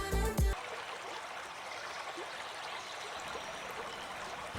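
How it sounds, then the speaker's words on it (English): A brief tonal burst gives way to water babbling over stones in a stream, a soft, steady trickling wash heard alone at moderate distance. "What do you call the sound of water running over stones?"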